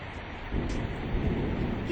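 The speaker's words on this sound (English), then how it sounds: "It is raining." Rain falling with rolling thunder, a steady wash of downpour that swells louder after the first half-second and rumbles low throughout, with no talking.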